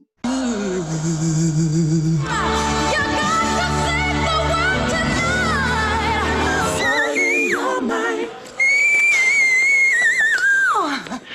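A singer sings, first with lower melismatic runs, then climbs into long, piercing whistle-register notes that slide and hold high and loud.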